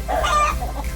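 Backyard chickens clucking in a short, close burst of overlapping hen calls, with no talk.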